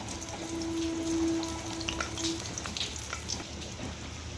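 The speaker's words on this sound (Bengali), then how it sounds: "দিয়ে আলুগুলো ভেজে নেব।" Potatoes fry in hot oil tinted with a little food colouring during chicken biryani preparation, giving a steady close sizzle with a faint low hum throughout and no talking.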